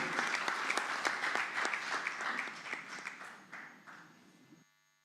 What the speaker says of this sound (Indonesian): Kita berikan tepuk tangan yang meriah, silakan di podium